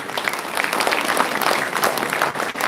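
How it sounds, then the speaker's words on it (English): Students at an engineering college's inaugural ceremony applaud their seniors, a steady, full burst of crowd clapping that holds at even loudness throughout the brief stretch. "Clap for your seniors."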